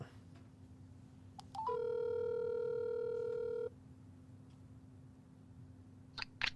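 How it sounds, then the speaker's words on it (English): A single steady phone tone sounds for about two seconds after a couple of soft clicks, then stops, leaving faint room hum. "we are going to go ahead and make a phone call right now"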